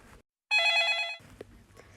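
A single bright electronic telephone ring sounds for under a second, then stops, leaving faint background noise.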